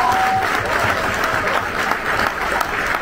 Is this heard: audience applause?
yes